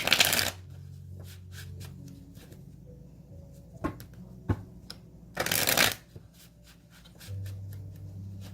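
Cards from a Love Pack deck by Chuck Spezzano are shuffled during a card reading, in two short brisk riffling bursts near the start and middle, with quiet handling and light taps between.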